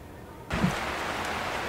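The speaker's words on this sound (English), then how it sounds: "It is raining big time" Heavy rain starts abruptly during an electric storm at sea and keeps up a dense, steady hiss of drops drumming nearby.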